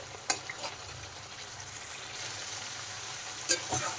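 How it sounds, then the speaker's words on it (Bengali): Spice paste for a rohu fish curry fries in a pan with soft sizzling while a utensil stirs it, giving a few sharp scraping knocks over a quiet, even frying hiss. "মশলা কিন্তু খুব ভালো করে কষিয়ে নিতে হবে।"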